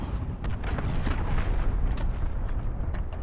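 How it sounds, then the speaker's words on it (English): A cruise missile explosion in Call of Duty: Modern Warfare multiplayer, a loud sustained rumbling blast with crackling debris and scattered pops, continuous and close throughout. "Allied cruise missile away."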